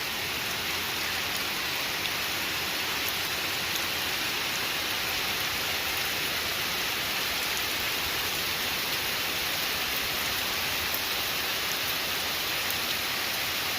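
Steady rain pours down on a forested hiking trail, a dense, even hiss of drops heard close and loud without pause, with no talk.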